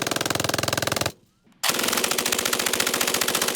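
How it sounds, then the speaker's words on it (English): A German MG-42 machine gun fires extremely rapid, continuous bursts, loud and close, with a brief half-second pause before the ripping fire resumes. "The MG-42 machine gun."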